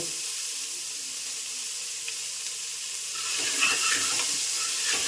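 Washed avarekalu (field beans) fry in hot oil, giving a soft, continuous sizzle that grows louder toward the end, with faint stirring clicks and no voices.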